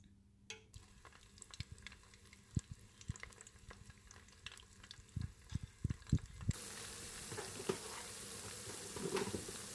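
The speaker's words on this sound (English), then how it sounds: "I'm going to add in the tomato paste to it and let it be on fire" Tomato paste sizzles and fries in hot oil in a pot for Ghana jollof rice, with scattered crackles and spits. The sizzle grows into a louder, steadier hiss partway through.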